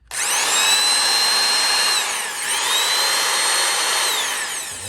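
A restored Black and Decker 7004-1 power tool runs loud and close, a high steady motor whine that dips briefly midway, then spins back up and slowly winds down.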